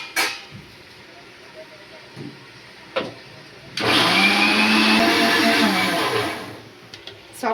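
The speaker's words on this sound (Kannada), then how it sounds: "ಇವಾಗ ನಾವು ಮಿಕ್ಸಿಗೆ ಹಾಕೋಣ" A kitchen mixer grinder (mixie) whirs loudly for about two and a half seconds as it blends biryani ingredients with a little water, with quieter handling knocks before and after.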